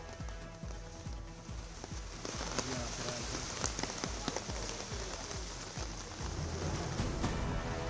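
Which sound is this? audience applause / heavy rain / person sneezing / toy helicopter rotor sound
heavy rain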